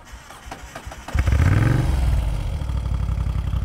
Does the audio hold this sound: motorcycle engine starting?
yes